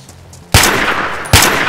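Gunfire in DayZ: two loud, close, sharp gunshots about 0.8 seconds apart, each followed by a ringing echo tail.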